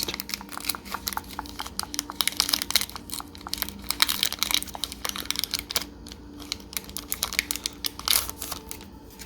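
A Magic: The Gathering Dominaria United booster pack wrapper is torn open and crinkled up close, with a dense stream of sharp crackling foil and plastic noises running throughout.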